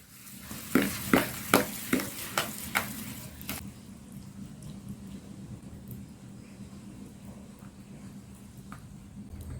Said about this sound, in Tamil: இப்போ நல்ல சர்க்கரை கரையிற வரைக்கும் நம்ம நல்லா பீட் பண்ணிக்கலாங்க.